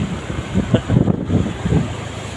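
Rough surf surges at Guimbal in bad weather, heavy waves rumbling and washing in pulses while strong wind buffets the microphone close by.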